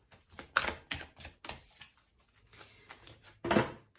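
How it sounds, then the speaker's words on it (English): Tarot cards being shuffled by hand: several sharp riffling and slapping bursts in an irregular rhythm, close and crisp, with quieter gaps between them. "A good shuffle."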